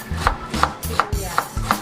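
A knife chops onion on a wooden board in about five evenly spaced, crisp strokes, close and clear with no talking.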